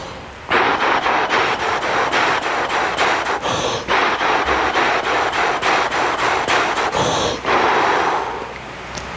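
Rhythmic, forceful breaths in quick repeating triplet groups, sharp exhales with brief inhales between, close and loud with no talking.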